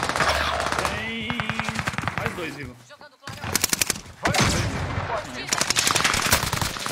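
Rapid bursts of video game gunfire crackle in repeated volleys, loud and close, with players talking between the shots.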